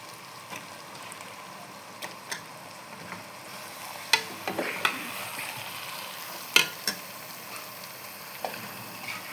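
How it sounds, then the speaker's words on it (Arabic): Chicken gizzards hit a pan of already-fried onion, garlic and pepper and sizzle steadily, with scattered louder crackles and spoon stirring clicks standing out from the continuous frying hiss. "انا كده حمرت البصل خلاص والثوم والفلفل، وهحط بقى القوانص"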